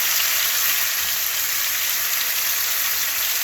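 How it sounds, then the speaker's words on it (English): Chicken thighs sautéing with seasoning in a hot pan for a Dominican-style pollo guisado, a loud, steady, close hiss of sizzling fat with no other sounds. "Now let them saute a little bit"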